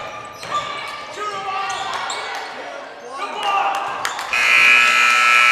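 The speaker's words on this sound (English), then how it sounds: "there is the buzzer to end our basketball game" A long electronic buzzer blares at the end of a girls' varsity high school basketball game, rising over crowd noise, commentary and squeaking sneakers.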